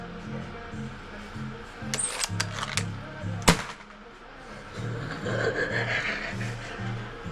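A single sharp gunshot fired outdoors near a wall cracks out loud and close, with people talking before and a murmur of talk resuming after it.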